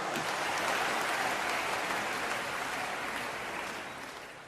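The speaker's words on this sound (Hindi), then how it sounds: "तो ये तालियां आपकी बजाना ही बताता है" Audience applause during a Dera Sacha Sauda satsang gathering in Sirsa, a dense, steady wash of many hands clapping that holds for several seconds and then gradually fades out.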